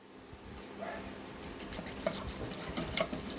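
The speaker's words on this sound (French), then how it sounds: "on va remuer tout ça" A spoon stirs rabbit civet stew in a pot after wine is added, with soft wet churning and a few light clinks against the pot, no talking.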